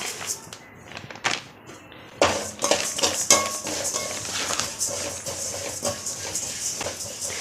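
Fennel seeds dry roasting in a pan while being stirred, heard close up as a busy patter of rattling seeds and metallic scrapes against the pan, with no speech.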